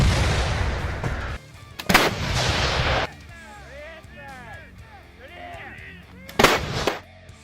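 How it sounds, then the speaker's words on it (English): A 2S4 Tyulpan self-propelled heavy mortar firing, with loud booming blasts and a ringing, reverberant tail, separated by quieter stretches with birds calling in the background. "Each shot makes the entire vehicle ring like a giant bell."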